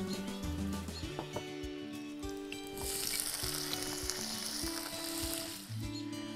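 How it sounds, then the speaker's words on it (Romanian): Chopped garlic and tomatoes sizzle loudly in hot oil for a simple tomato pizza sauce cooked outdoors, a steady bright frying hiss that swells midway and carries on throughout with no talk. "Tăiem usturoiul în bucăți mici, după care îl punem în uleiul încins. Adăugăm și roșiile."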